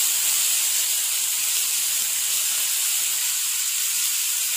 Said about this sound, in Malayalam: ഇനി ഇതിലേക്ക് രണ്ട് സവാള ചെറുതായിട്ട് നുറുക്കിയത് ചേർത്ത് കൊടുക്കാം